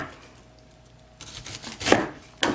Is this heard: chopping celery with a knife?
yes